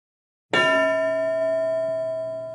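A bell is struck once with a sharp clang, then rings on in a long, slowly fading metallic tone.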